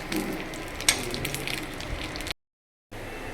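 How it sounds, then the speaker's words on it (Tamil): Fish frying in oil for a fried fish dish, a quiet, crackling sizzle with a sharp tap near the start, steady until a short gap of silence, then resuming faintly. "இது மாதிரி நம்ம எல்லா மீனையும் பொறிச்சு எடுத்துடணும்"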